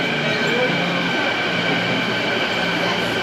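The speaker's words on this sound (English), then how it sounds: "here comes the train." A Canada Line metro train pulls into a station on the airport route, a steady broadband rumble and hiss of the approaching cars holding at an even level throughout, with no clear clatter or squeal standing out.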